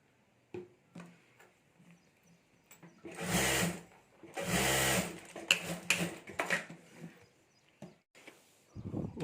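A sewing machine stitching the lining of a homemade clutch bag, two sustained bursts of close, rhythmic whirring separated by short pauses, then scattered brief runs and clicks.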